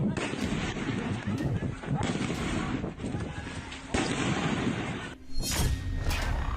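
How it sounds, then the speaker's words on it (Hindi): Explosions ring out near a polling booth during an election in Bangladesh, a series of loud, rough blasts arriving every second or so amid a constant noisy outdoor din. "पोलिंग बूथ के बाहर धमाके ही धमाके हो रहे हैं।"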